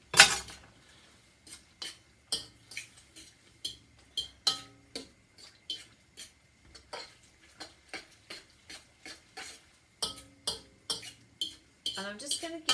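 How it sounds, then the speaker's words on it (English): Tom Yum soup being stirred in a pot, a series of distinct clinks and taps of a utensil against the pot in an irregular rhythm, close and fairly quiet, with near silence between strokes. "give this a bit of a stir."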